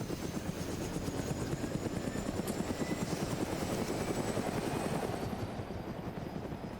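Helicopter engine spooling up in the Arma 3 video game, a steady loud rotor throb with rapid blade chop filling the whole stretch, no voices over it.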